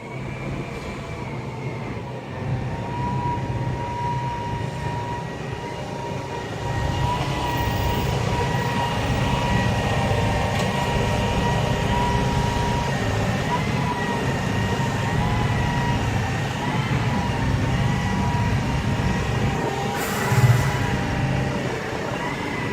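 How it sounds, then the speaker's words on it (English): A continuous rumbling, squealing noise from a turning train wagon fills the scene, steady and fairly close, with metallic screeches rising over the low roar. "the noise you get in is directly from that wagon just turning around"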